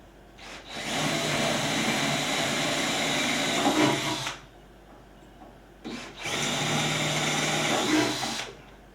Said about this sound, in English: Now we're going to change bits and open them up to a 1/4 inch bit, which is what size the bolts are.